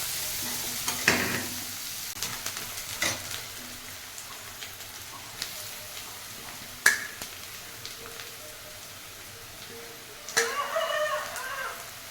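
Vegetables with carrot sizzle softly in a pan, with a few scraping stirs and clinks of a utensil now and then against a steady quiet crackle.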